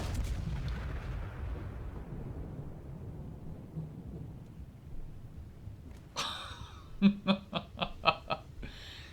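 Naval guns fire at a destroyer in War Thunder: a heavy distant boom rumbles and fades, then a rapid series of five or six sharp bursts follows near the end.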